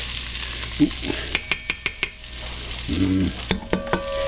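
Vegetables sizzle in butter in a cast iron Dutch oven used for beef stew, a constant frying hiss punctuated by a quick run of sharp utensil taps and clinks against the pot.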